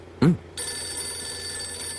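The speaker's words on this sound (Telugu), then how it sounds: "ఇప్పుడు నీకు ఫోన్ వస్తుంది చూడు" A single short ring burst from a telephone, followed by a steady electronic ringing tone that holds for the rest of the moment.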